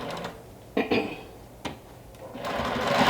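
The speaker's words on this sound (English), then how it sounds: "I'm going to back stitch and continue my regular stitching on this side" A sewing machine stitches through a big minky blanket, with brief runs of the motor and needle separated by quiet pauses before a steadier burst of stitching builds at the end.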